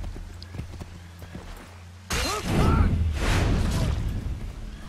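Horse hooves in Assassin's Creed III clatter loudly in a quick galloping rhythm, close by, after a quieter opening with soft thuds and a voice murmuring.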